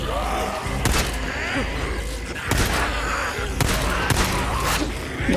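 Gunfire in the zombie-survival game Days Gone, several loud broadband shots spaced a second or so apart, with a dense background of game noise and occasional voices.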